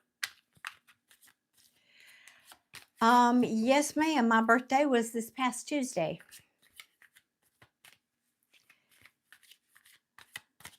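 A deck of tarot cards is shuffled by hand, soft riffling and sliding flicks scattered throughout, faint and close, with someone speaking briefly in the middle.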